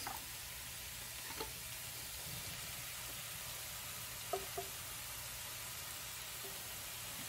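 Garlic and black beans sizzle steadily in a hot pan, a constant close frying hiss with a few faint clinks of a spoon stirring.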